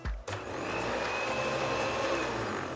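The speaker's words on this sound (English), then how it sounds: "So I'll add some flour. I'll start the mixer." An electric mixer starts up and runs steadily at low speed, beating cupcake batter with added flour; a loud clunk opens it, then a constant whirring motor hum continues alone.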